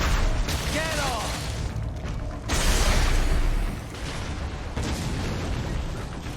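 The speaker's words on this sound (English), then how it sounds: "He didn't hear that giant explosion." A giant explosion in the action game Metal Gear Rising: Revengeance, a loud broadband boom surging midway through amid continuous game sound effects and rumble.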